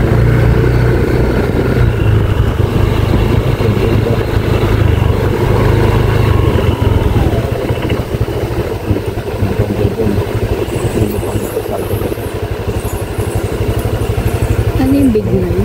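A motorcycle engine runs steadily and close by throughout, with a rough continuous rumble and people talking over it.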